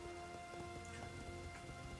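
Rain falls steadily during a Three Kingdoms video game battle, a dense patter of drops with faint low rumbles beneath and a few brief tonal accents, continuous and fairly quiet.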